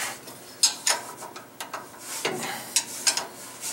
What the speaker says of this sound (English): We're just going to remove, like I said, the top bolt here